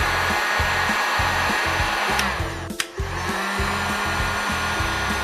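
A heat gun blows hot air onto a solder seal end cap on an electric floor heating cable, a loud steady whooshing roar with a pulsing motor hum and a brief sharp rustle partway through.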